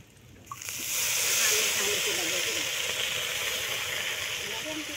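Bengali pitha fries in a little oil in a pan, with a loud hiss and steady sizzle that rise after a quiet start and then hold close up.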